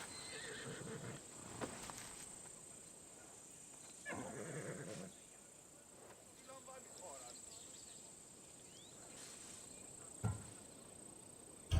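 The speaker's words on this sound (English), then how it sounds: "I wouldn't want you to take an unworthy horse." A horse whinnies and snorts in a game scene from Assassin's Creed Odyssey, with a few short neighs and stamping bursts over faint ambient insects and a steady high hum, fairly quiet overall.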